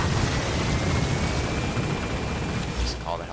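Helicopter from Metal Gear Solid V rotor thumping loud and continuous, a dense, steady roar filling the whole stretch.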